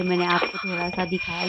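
Temple bells ringing during a village temple puja: a steady, high, ringing tone with a shrill edge that continues without a break beneath someone talking close by.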